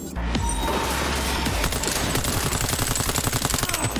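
Automatic weapon fire in Cyberpunk 2077, a loud, continuous rapid burst of shots that tightens into an evenly spaced rattle toward the end.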